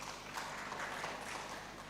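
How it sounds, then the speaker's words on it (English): Applause from a conference audience at a national communications conference, a steady, fairly quiet wash of many hands clapping at a distance with no voices over it. "I think we all deserve a round of applause for ourselves."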